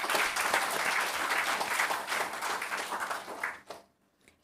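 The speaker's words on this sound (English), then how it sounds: "Let us give them a great clap." Hearty applause rises from an audience honouring competition winners at a church celebration, a full, even wash of clapping that carries for several seconds before stopping abruptly into near silence.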